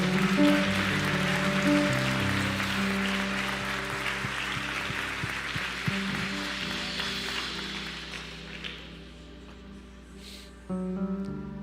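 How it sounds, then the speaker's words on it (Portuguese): Applause from a church congregation during a Sunday worship service, a broad wash of clapping over sustained music that gradually thins and fades, with a brief swell near the end. "Você pode aplaudir o Senhor."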